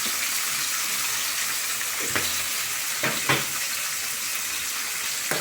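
Curry leaves tempering in hot oil in a home kitchen for a drumstick and tomato egg curry, a steady hiss with a few sharp crackles and spoon scrapes near the middle, close and continuous.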